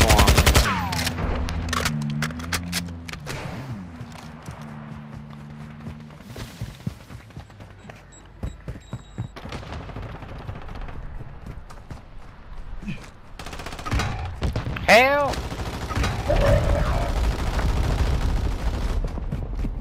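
Bursts of gunfire from the Warzone video game, with rapid volleys and sharp single shots at varying distance, overlapping an opening stretch of low droning tones and a loud cluster of shots near the end.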